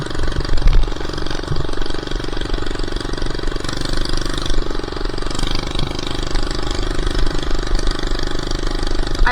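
A small minibike engine runs while being ridden, its close, rough buzzing drone steady throughout with occasional bumps and rattles.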